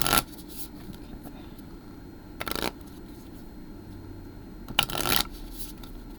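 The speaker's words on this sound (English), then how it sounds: "I already shuffled them, but let's shuffle some more" A Wandering Echo tarot deck is shuffled by hand in three short, papery riffling bursts at the start, middle and near the end, close and soft with quiet room stillness in between.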